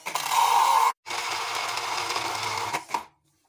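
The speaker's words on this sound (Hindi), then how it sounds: "अब इसके अंदर हम शामिल करेंगे पुदीने के पत्ते, 8 से 10 पत्ते हैं, इनको इसमें शामिल कर लेंगे और अच्छे से ब्लेंड करते हैं।" A kitchen blender whirs through watermelon with eight to ten mint leaves, a loud, even motor drone in two bursts split by a short pause before it stops.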